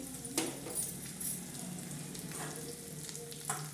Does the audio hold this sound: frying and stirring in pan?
yes